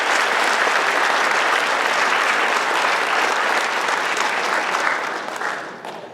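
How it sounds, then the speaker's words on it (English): Loud, dense applause from a large crowd at a firefighter academy graduation ceremony, sustained and even for several seconds before gradually thinning out at the end. "I want everybody to give the sidekicks a round of applause."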